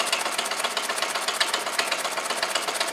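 A small homemade solenoid motor built from weed whacker parts, with a little oil added, runs steadily and makes a fast, even mechanical ticking and rattling that stays close and constant throughout.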